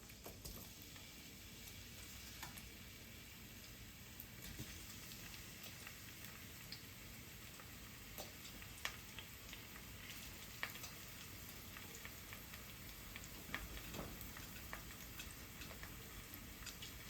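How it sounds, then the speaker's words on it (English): Sliced onion frying in a hot pan on a stove for Nigerian bole and pepper sauce, giving a faint, steady sizzle with scattered small ticks and pops throughout, no voices. "I'm gonna put some sliced onion in there, fry that first."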